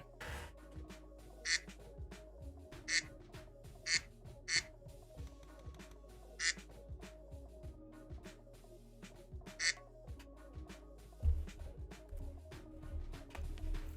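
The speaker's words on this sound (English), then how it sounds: "I clicked on the quack" Duck quack sound effect played repeatedly by clicking, about eight short quacks at fairly even intervals over a low hum and faint background clicks.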